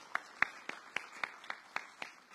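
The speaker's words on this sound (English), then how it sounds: "So let's give the cheerleaders a round of applause today." A small audience at a press conference claps for cheerleaders in a slow, evenly spaced rhythm of single distinct claps, fairly quiet, about eight or nine beats in a row.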